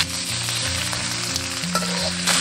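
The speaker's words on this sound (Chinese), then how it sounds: "炒香过后下入鱼头一起" A fish head fries in hot oil with scallion and ginger, giving a loud, close, continuous sizzle with faint stirring and no talking.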